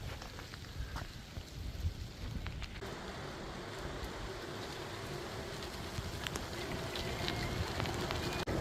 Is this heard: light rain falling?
yes